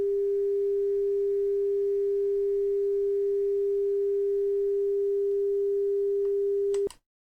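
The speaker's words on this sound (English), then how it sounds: "A sine wave tone produces a pure sound" A pure, steady sine wave tone generated as an audio effect in HitFilm holds one unchanging pitch for about seven seconds, loud and alone, then stops abruptly with a faint click.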